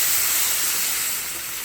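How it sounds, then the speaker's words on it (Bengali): Hot water poured into a pan of sizzling red lentil and pumpkin curry, a loud broad steaming hiss that fades slowly. "তো গরম জলটা এর মধ্যে অ্যাড করে দিচ্ছি।"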